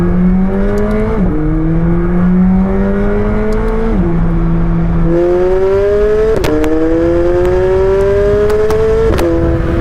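A car is driven on a test run before delivery, its engine loud and close as it revs up through several gears in rising sweeps with brief dips at each shift, and no talking.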